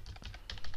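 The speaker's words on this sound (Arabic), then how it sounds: "شوفو هنايا ها راني نكتب مخلانيش نكتب" Soft, quick keystrokes patter on a computer keyboard, close and faint, a short burst of several taps.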